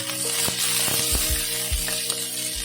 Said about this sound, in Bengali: হাই ফ্লেমে এটাকে কিন্তু ফ্রাই করতে হবে